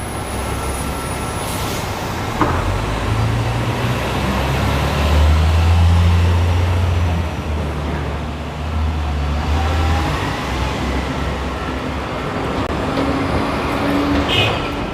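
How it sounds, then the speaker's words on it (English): Busy street traffic on Madison Avenue in Midtown Manhattan, New York City: a steady wash of engines and tire roar with heavy low rumble from passing buses and trucks, continuous and fairly loud, with no talking. "Look at all this traffic on Madison Avenue"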